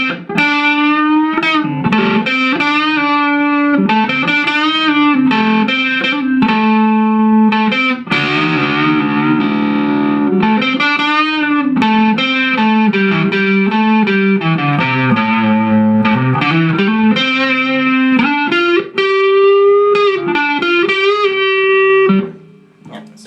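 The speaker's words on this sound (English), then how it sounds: "Really nice overdrive. That's called their gold overdrive." Electric guitar run through the gold overdrive setting on a Vox VT20+ amp, loud sustained driven chords and bending lead lines playing continuously and alone before stopping abruptly at the end.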